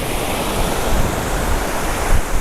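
Ocean waves roar steadily at the beach in a loud, continuous wash of surf with a little wind, and no voices, recorded on a budget Grenaro P10 microphone with noise cancellation.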